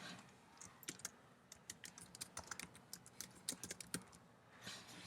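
Rapid, fairly quiet clicking from a computer keyboard as text is typed for a Premiere Pro title, the irregular keystrokes close up and heard alone.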